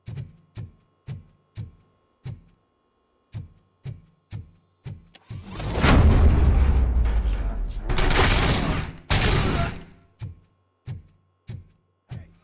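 Sharp, evenly spaced gunshots repeat in a steady rhythm in the video game RoboCop: Rogue City, broken midway by a few loud, sustained bursts of blasting noise before the rhythmic shots resume.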